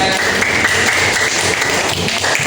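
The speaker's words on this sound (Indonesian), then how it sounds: "Beri tepuk tangan buat saya." A fifth-grade class in an Indonesian school applauds together in a dense, steady wash of clapping that holds at an even level for a couple of seconds.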